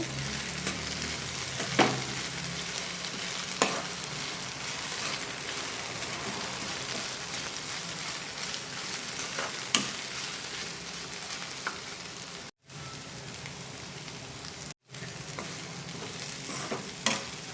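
Okra frying in a pan while being stirred with spice powder makes a constant crackling sizzle with occasional scraping strokes, steady and moderately loud, broken by two brief dropouts.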